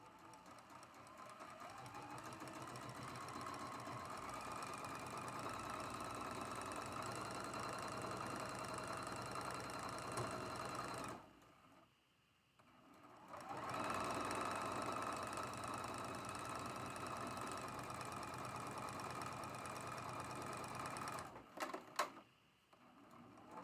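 Sewing machine stitching a 2 by 12.5 inch strip onto an hourglass quilt block: steady, fast mechanical whirring and ticking, fairly quiet and close, with a brief pause midway before it resumes and stops.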